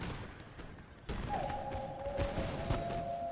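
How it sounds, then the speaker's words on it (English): Musket volleys from Dutch Guard infantry on a Napoleonic-era battlefield in Imperial Splendour, a crackle of scattered distant shots followed by a louder burst of rolling gunfire over battle ambience. "Dutch Guard unit firing towards us."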